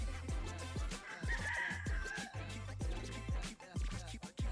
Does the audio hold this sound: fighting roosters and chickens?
yes